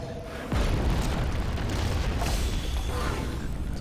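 A wall blows apart in the Harry Potter and the Goblet of Fire video game, a sudden loud boom that settles into a sustained rumbling, crumbling roar lasting several seconds.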